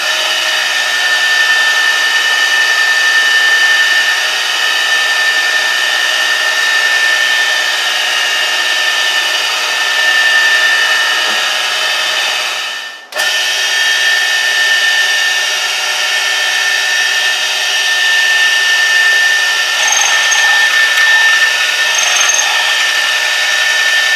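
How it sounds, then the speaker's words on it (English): A drill press bores holes into a handle hub, giving a loud, steady motor whine with a constant high tone. Near the middle there is a brief dip and a sharp crack, and then the drilling resumes. "the idea is to drill 3 different holes at 120 degrees apart, and then tap them."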